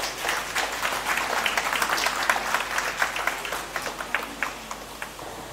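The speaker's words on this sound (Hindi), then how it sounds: "हम तालियां बजा दें।" At the blessing and inauguration of a de-addiction centre, the audience claps for an invited legislator, a lively, fairly close round of many hands with distinct individual claps that holds steady and then tapers slightly.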